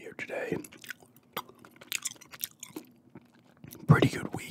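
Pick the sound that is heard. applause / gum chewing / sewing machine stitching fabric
gum chewing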